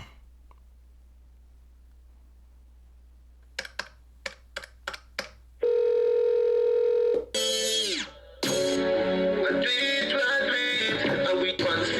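Music streamed from Spotify plays loud and full through a Bluetooth speaker stand, starting after a few sharp taps and clicks, with a brief tone and a skip before the song continues steadily.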